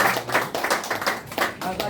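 Applause from a congregation at a special thanksgiving worship service: a loud cluster of hand claps in an uneven, bursting rhythm, close and dense for a couple of seconds.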